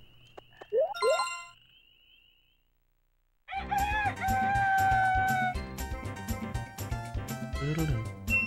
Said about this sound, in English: You damn chicken.